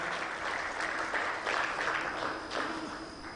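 Audience applause fills a conference hall at an international investment meeting in Tanzania, a dense, steady patter of many hands clapping at moderate volume for the whole stretch, with no voices over it.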